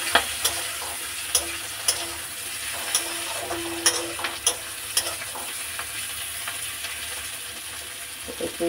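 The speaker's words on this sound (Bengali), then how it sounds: "এই যে উচ্ছে আলু ভাজা হচ্ছে" Bitter gourd and potato frying in a pan: a low steady sizzle with regular light clicks and taps of a spatula or stirring spoon against the pan, nearby and without speech.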